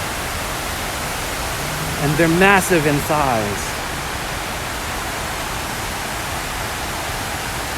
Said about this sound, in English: And the sound of water just is very tranquil.